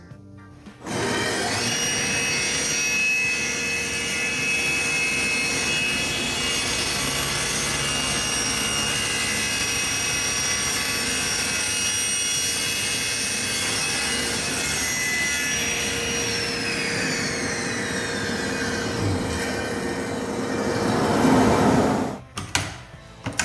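A table saw rips wood with a taper jig, one long steady cut whining and rasping throughout, the blade tone shifting near the end before the saw winds down, close and loud with no talking.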